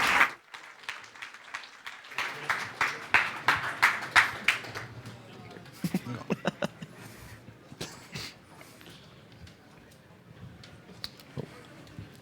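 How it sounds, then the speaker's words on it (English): A conference audience welcomes a panel onto the stage with a burst of clapping that swells for a few seconds, then thins into scattered claps and stray taps fading toward the end. "Give them a big, warm round of applause."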